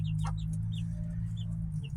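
A mother hen gives soft, scattered clucks with her chicks in a chicken run, fairly faint over a constant low hum.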